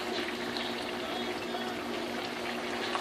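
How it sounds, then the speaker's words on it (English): Potatoes boil rapidly in a pot of water, making a steady, dense bubbling and hissing that holds at an even level throughout. "potato grains is rapidly boiling"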